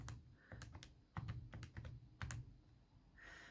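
Rapid plastic calculator button presses while entering parentheses around an exponent, a string of sharp close clicks in an uneven rhythm, alone and with no voices.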